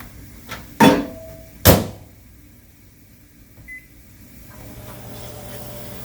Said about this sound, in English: Into the microwave.